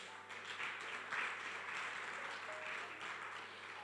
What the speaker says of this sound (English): So please clap for yourselves.